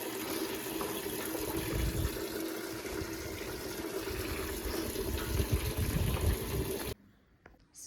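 Water for a buffalo pours and splashes steadily at close range, a continuous liquid rush that stops abruptly near the end, leaving faint quiet.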